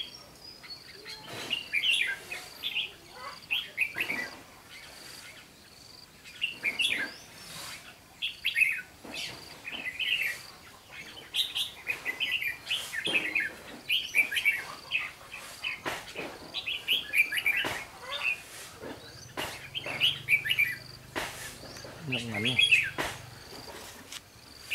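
Red-whiskered bulbul calling near a bird trap outdoors, repeated bright chirps and short warbled phrases close by, with other birds tweeting and faint insect buzz in the background.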